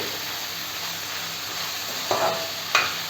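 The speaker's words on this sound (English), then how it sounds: "We will allow this onion to saute a little bit." Onion sauteing in a pan over a low-medium flame, a steady bright sizzle throughout with a couple of brief stirring scrapes near the end.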